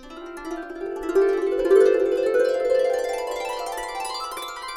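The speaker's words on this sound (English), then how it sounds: "So those are the glissando beds for the lap harp." A lap harp sweeps upward in a bright rising glissando, notes ringing and overlapping for several seconds.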